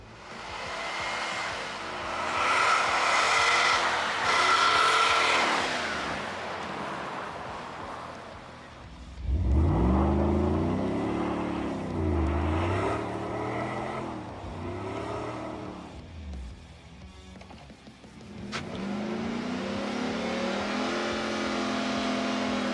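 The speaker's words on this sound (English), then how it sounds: "Maybe do a bridge burnout." A car on BFGoodrich KO2 all-terrain tires does a burnout on an icy bridge, engine revving hard in repeated rising and falling bursts, loud and close, with a steady high whine and pauses between pulls.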